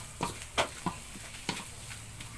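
Crumbled longganisa sausage frying in a pan for garlic fried rice, a soft steady sizzle broken by a few spatula scrapes and taps, fairly quiet and without talk.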